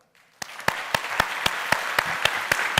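A church congregation breaks into applause at a Korean Sunday worship service marking the church's anniversary: after a quiet start, a burst of clapping builds, with one sharp rhythmic clap repeating about every half second over the general applause.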